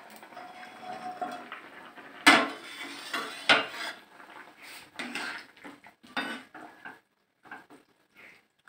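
A cooking pot holding simmering potatoes clatters with metallic knocks and clinks as a lid is handled and set on, a few sharp hits among softer scattered taps, close and fairly loud.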